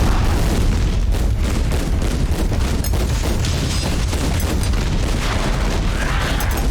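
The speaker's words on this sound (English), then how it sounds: "that is a rocket too, the secondary fire" Rocket launcher secondary fire in the first-person shooter Scathe, a dense, loud roar of overlapping explosive booms and rumbling blasts that runs continuously without a pause, with no talking.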